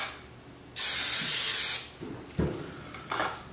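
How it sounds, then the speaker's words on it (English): A single long hiss of an olive oil cooking spray onto a whole tilapia, followed by a few softer clatters and short bursts of handling noise. "I'm going to use olive spray. You can use any vegetable spray."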